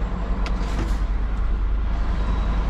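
A truck cab interior while reversing toward containers at an unloading site, with a steady low engine drone and rumble and a couple of faint knocks, no voices.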